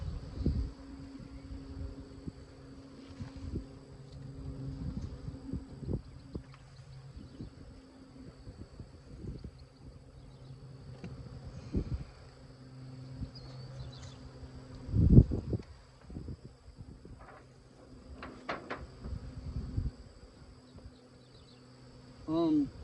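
Honey bees buzzing around a hive under robbing, a dense close hum of many insects with occasional louder passes near the microphone and light wind.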